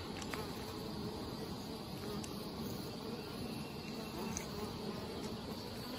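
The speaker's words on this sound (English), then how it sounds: "These bees are working in and out." Honeybees working in and out of backyard hives in hot weather make a faint, steady buzzing hum that fills the whole stretch, with no talking.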